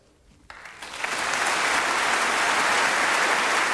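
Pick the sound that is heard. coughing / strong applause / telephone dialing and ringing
strong applause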